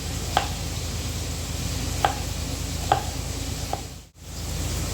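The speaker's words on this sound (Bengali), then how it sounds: "ক্যাপসিকাম স্লাইস করে নেব লম্বা লম্বা করে স্লাইসটা করব" A knife slices capsicum into long strips on a cutting board, giving four sharp, spaced chops close by over a low kitchen hum.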